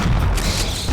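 Heavy booming impacts from an explosive round fired at a dinosaur in Turok, a dense low thud filling the moment, loud and close with no talking.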